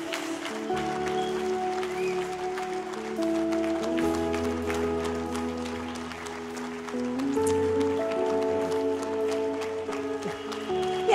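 A church congregation applauding and cheering to honor the women standing, sustained crowd clapping and cheers with music playing underneath, continuous and fairly loud.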